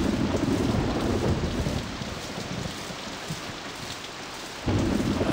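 Rain falling at night, a steady close hiss of drops on surfaces with a deep rumbling swell at the start and end, like distant thunder.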